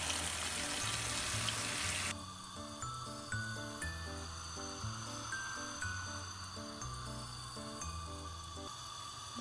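Cold tap water gushes loudly into a small pan for about two seconds and then shuts off, leaving quiet background music playing.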